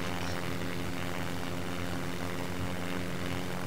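A plane engine in the SimplePlanes flight game drones loudly and steadily, a continuous buzzing propeller-like hum with no pauses and no voices.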